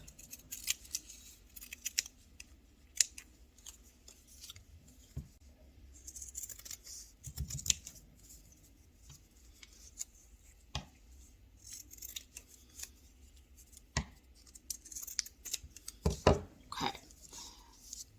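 Scissors snip through folded fabric for quilt block pieces, giving faint, close, scattered crisp cuts and light rustling against a quiet background.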